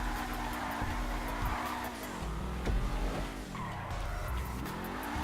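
A Dewbauchee Seven-70 sports car drifting in GTA 5 Online, with screeching tire squeal, engine revving rising and falling, and the sliding skid sounds of repeated drift passes.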